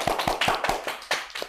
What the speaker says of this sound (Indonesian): Di sini tepuk tangan dulu, ada Pak Robertus,